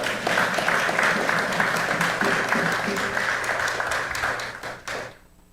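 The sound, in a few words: audience applause for the guest lecturer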